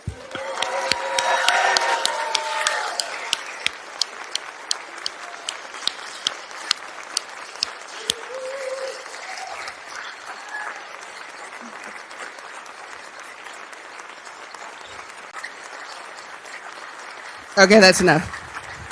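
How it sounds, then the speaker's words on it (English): Raucous audience applause for graduates at a PhD commencement ceremony, loud at first then thinning into scattered claps, with a burst of cheering near the end and a brief spoken remark. "give our graduates one really raucous round of applause"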